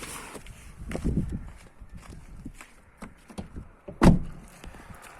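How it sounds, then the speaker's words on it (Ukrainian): A Volkswagen Golf Plus door that would not open from inside or outside is worked open, giving soft handling knocks and a sharp, loud latch clunk near the end, close up with no talking. "туди чик і двері відчиняється"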